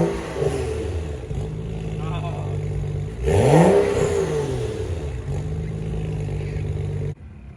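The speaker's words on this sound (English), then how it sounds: "now he's gonna give it a couple revs and see how it sounds" BMW engine and exhaust revved in a single sharp blip that swells and falls over a steady idle, loud and close, with a brief clattery burble, then cutting off at the end.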